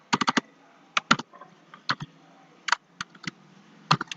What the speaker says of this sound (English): typing the IP address